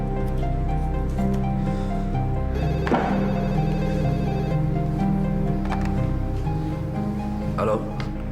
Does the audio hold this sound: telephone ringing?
yes